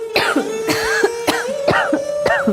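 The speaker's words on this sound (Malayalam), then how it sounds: "ഈ ചുമ ഒറിജിനലാണോ?" A series of coughs, five or so in quick succession, each a sharp harsh burst, close up, over a steady tonal hum in the background.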